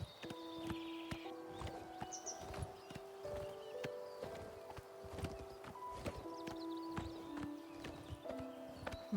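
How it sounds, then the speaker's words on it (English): Horse hooves clip-clop at a steady walking rhythm in the video game The Elder Scrolls IV: Oblivion Remastered, crisp repeated hoof strikes over soft melodic game music and occasional birdsong. "Now that's an old nag."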